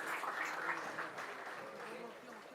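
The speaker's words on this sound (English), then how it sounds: "Let's have a huge round of applause for all our dignitaries on the dais." A conclave audience at a South India business inauguration ceremony applauds the dignitaries on the dais: sustained, faint clapping heard from a distance with a murmur of crowd voices blended in.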